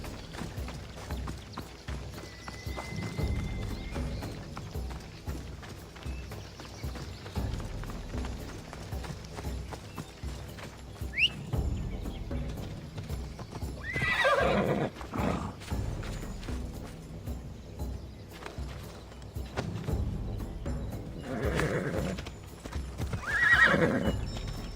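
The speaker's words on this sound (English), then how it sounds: "This would be faster on horseback." Horse galloping in the video game Assassin's Creed Odyssey, a continuous rhythmic clip-clop of hooves punctuated by several loud neighs and whinnies, close and sustained throughout with no talking.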